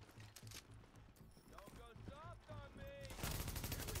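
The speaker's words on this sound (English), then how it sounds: "A lot of recoil on that assault rifle, too." Assault rifle fire in the video game The Division on Xbox One, bursts of shots rattling over game background sounds, building to heavy sustained gunfire near the end; someone talks over the action.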